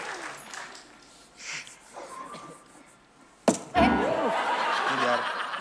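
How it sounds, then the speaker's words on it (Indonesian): Audience applause at an Indonesian acting segment breaks out suddenly after quiet talk and chuckles, then holds as a loud, sustained clapping wash to the end. "Tepuk tangan dulu buat saya."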